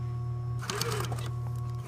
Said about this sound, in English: So I'm stitching next to the first stitching